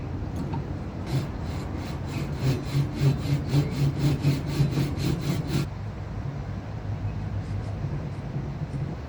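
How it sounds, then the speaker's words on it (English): A hand saw cutting a workpiece clamped in a vise, a close rhythmic run of about a dozen rasping back-and-forth strokes that then stops, leaving low background noise. "I'm going to put it in the vise, and I'm going to cut it down."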